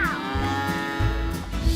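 A single deep cow moo from cattle on a farm that also grows corn, soybeans and wheat, loud and close, with a low drawn-out tone and no talking.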